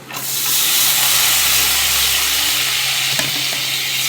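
Sliced spiny gourd fries with browned onion in a little oil, a loud, close, continuous sizzle with a hissing steam edge, broken by a single clink of a utensil against the pan.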